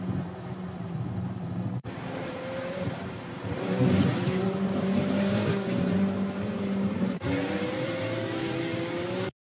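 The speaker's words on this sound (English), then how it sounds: "focusing on the car as it crosses the finish line in triumph" A race car roars past the finish line, engine revving and surging loud over steady road noise, with abrupt cuts in the sound.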